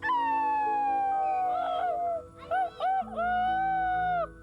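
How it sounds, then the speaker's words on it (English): A coyote at a New Mexico natural history museum howls in long, loud, wavering sliding notes, breaking into shorter yips and rising wails before a final sustained howl, with no talk. "from the well-known coyote"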